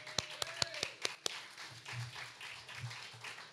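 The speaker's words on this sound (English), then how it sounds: "Big round of applause for the Kane Foundation" A handful of sharp, distinct claps ring out near the start at a sponsor thank-you during an evening party at a sports hall, thinning into quieter room murmur and low voices.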